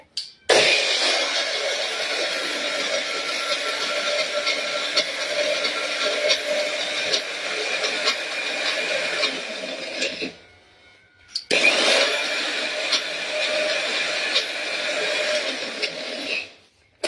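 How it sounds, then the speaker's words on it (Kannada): A mixer grinder finely grinds moong dal with a loud, steady whir that runs for about ten seconds, stops briefly, then starts again for several more seconds. "ಇದನ್ನು ರುಬ್ಕೊಳ್ಳೋಣ, ನುಣ್ಣಗೆ ರುಬ್ಕೊಳ್ಳೋಣ"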